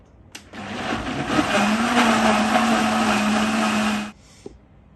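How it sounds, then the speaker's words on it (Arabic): A kitchen blender whirs steadily for about four seconds while blending garlic sauce ingredients with salt, white pepper and a drop of vinegar, loud and close, with a click at start and a short knock after it stops. "نضرب المكونات دي في الخلاط مع بعض"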